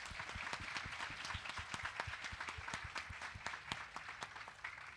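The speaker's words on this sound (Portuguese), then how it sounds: "Palmas para Tom." Festival audience clapping for Tom, a steady, fairly distant patter of many hands with individual sharp claps recurring across the whole stretch.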